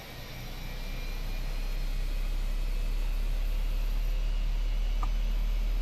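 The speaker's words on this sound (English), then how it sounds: "Hear those engines start to purr up." Aircraft engines spool up in Microsoft Flight Simulator 2020, a steady low rumble and hum rising over the first couple of seconds and then holding loud and constant, with no talking.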